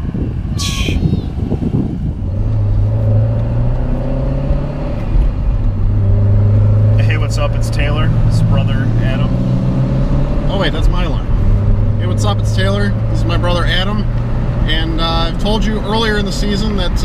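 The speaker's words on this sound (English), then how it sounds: "This one, as you can probably tell, is the C7 Corvette Stingray, Z51. And this car is also supercharged." A supercharged C7 Corvette Stingray Z51, rated around 900 hp, drones steadily from inside the cabin during a ride, its engine note rising and falling in long sustained tones while people talk over it.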